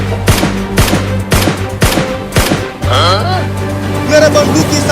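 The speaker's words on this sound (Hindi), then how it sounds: "गोली मार तो रहा हूँ।" A gun fires repeatedly at a fish during a flood in a village, with about five sharp, loud shots in a steady rhythm, followed by bubbling, squiggly sounds and voices.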